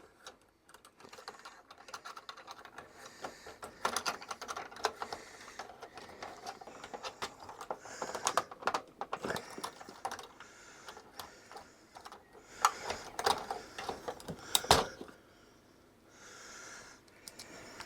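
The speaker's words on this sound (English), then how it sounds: "Let's grab a key puller." Small plastic clicks and ticks as keys are pulled off a Commodore 64 breadbin keyboard with a key puller, irregular sharp snaps scattered over quiet handling noise.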